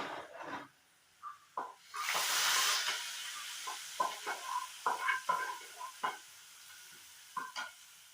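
Sliced onions frying in coconut oil, a burst of sizzle followed by repeated spoon clinks and scrapes against the pan, close and fairly quiet.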